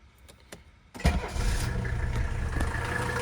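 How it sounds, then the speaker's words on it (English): A cold 1984 Mercedes 300D diesel cranks briefly with a few clicks, then catches with a loud thump and settles into a rough, clattering idle close by. "The engine is cold. I'm gonna start it up right now."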